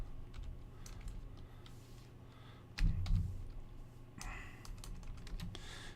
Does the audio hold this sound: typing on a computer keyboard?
yes